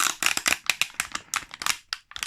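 Cardboard and plastic Matchbox 5-pack packaging being ripped open by hand: a rapid series of crisp tearing and crinkling bursts, close and alone, with no talking.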